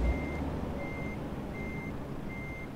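Truck reversing alarm in American Truck Simulator, four evenly spaced high beeps over a steady low engine rumble, no voices.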